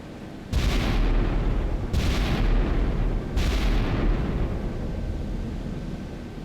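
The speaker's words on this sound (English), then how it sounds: "Again, 16-inch guns." Battleship Wisconsin's 16-inch guns fire in the naval game Sea Power, three heavy booming salvos spaced about a second and a half apart, each followed by a long rumbling roar that fades slowly.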